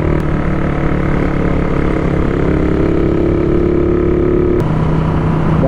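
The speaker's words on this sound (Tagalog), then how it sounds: "Gamit namin motor ngayon" A Yamaha NMAX motor scooter rides along the Tarlac–Zambales road near Capas and Botolan, its engine a steady loud drone with a continuous hum and wind throughout.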